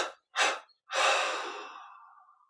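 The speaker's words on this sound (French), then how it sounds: "Puis on prend une inspiration profonde, une expiration 3 fois." Breathing during a guided meditation: two short, sharp inhales followed by one long, slow exhale that gently fades out, close and clear with no talk.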